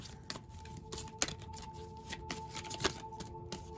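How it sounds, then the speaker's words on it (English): Soft riffling and flicking of a tarot card deck being shuffled, with a few sharper snaps standing out, close up and fairly quiet. "a card flipped while they're shuffling"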